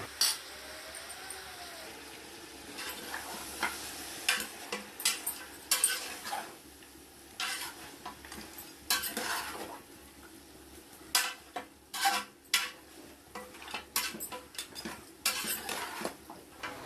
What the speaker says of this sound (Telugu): ఆనియన్స్, మటన్ అన్నీ కలిసేటట్టు మళ్ళీ ఒకసారి మనం కలుపుకోవాలి